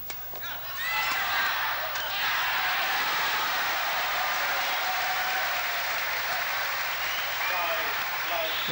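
A home crowd at the Sudirman Cup badminton final in Jakarta breaks into loud, sustained applause and cheering that swells after a second and carries on dense and steady throughout, with scattered shouts in the mix.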